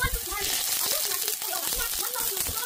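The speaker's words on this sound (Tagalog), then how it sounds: "Prito natin yun." Steady crackling sizzle of food frying in hot oil while cooking beef kare-kare, continuous and close, with faint voices murmuring underneath.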